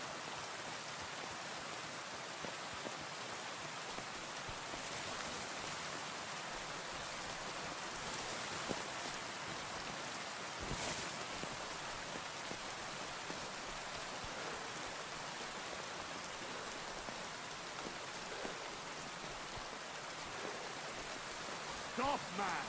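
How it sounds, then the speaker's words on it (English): Steady rain falling in Kingdom Come Deliverance II, an even hiss of drops on surfaces that runs unbroken, with a few brief louder knocks and faint voices underneath. "The sound of the rain was that good."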